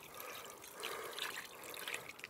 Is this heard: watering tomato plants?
yes